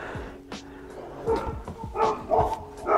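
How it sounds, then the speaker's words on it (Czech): A village dog barks repeatedly nearby in a series of sharp, uneven barks and yips, growing louder in the later part. "Jinak omlouvám se za pejska"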